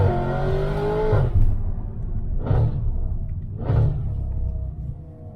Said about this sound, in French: Le bruit d'un V8, c'est ouf.